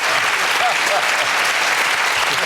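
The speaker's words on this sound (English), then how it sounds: "you deserve a round of applause for that" Studio audience applause from a radio panel show, a dense close burst of clapping that fills the short moment evenly and loudly.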